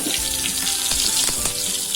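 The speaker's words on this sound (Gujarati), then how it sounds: "રાઈ સરસ ફૂટી ગઈ છે હવે હિંગ નાખી દઈશું અને લીમડાનું પાણી નાખી દઈશું" Mustard seeds sizzling in hot oil for a tempering as asafoetida and curry-leaf water go in, a steady loud crackling hiss with watery splashing throughout, no voices.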